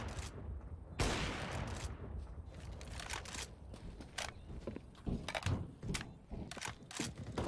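Video game gunfire, a flurry of sharp repeated shots and impacts mixed with clanking mechanical effects, loud and close throughout.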